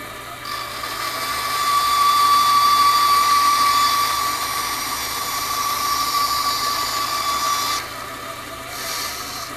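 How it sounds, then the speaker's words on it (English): Wood lathe spinning an ornament while the small nib is cut off. A loud, steady high whine with a broad hiss builds, holds for several seconds, then dips briefly and resumes. No one speaks. "I'm going to take this little nib off from the lathe while it goes."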